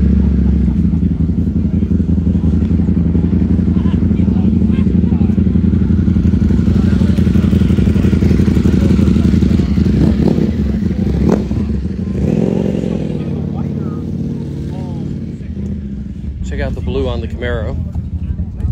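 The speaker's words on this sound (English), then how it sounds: "Some motorcycles coming in." Motorcycles pull into a Cars and Coffee car meet, their engines a steady, loud rumble that eases off toward the end, with people talking nearby.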